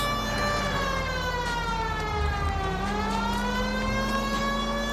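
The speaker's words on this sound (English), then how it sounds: "it's pointless having the sirens on" A police car siren in the video game L.A. Noire wails continuously and loudly, its pitch sweeping down and back up, heard alone with no talk over it.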